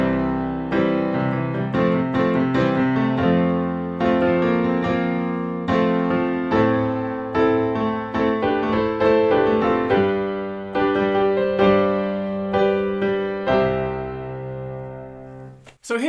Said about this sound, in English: So a suspended chord is when you're holding another note inside a chord which isn't normally there.